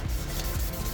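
Sandpaper rubs steadily over a Honda Civic EK headlight housing to knock off its glossy finish, a close, continuous scratchy hiss with no pauses and no talking.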